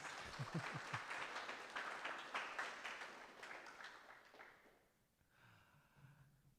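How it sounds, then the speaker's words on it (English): A crowd at a storytelling event applauds with dense, steady clapping that gradually fades out, followed by a quiet pause. "Let's have another round of applause for Lori Cornelius."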